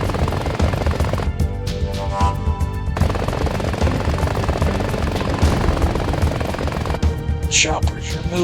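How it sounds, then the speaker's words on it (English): Helicopters from the video game Front Mission 4 drone steadily throughout, a continuous loud rotor-and-engine wash mixed with bursts of rapid gunfire-like clatter. "Choppers are moving now."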